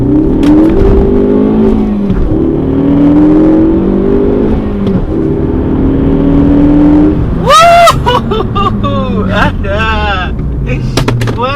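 Honda VTEC car with a new exhaust and no blow-off valve revs loudly up close, the engine note rising and falling, then a sharp burst of popping, fluttering whooshes that mimics a blow-off valve, with people talking over it.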